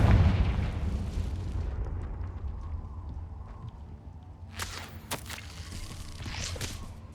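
A Confringo spell explodes in the wizarding game Hogwarts Legacy, a loud opening boom fading into a low rumbling roar, then a few sharper crackling bursts follow, no talk.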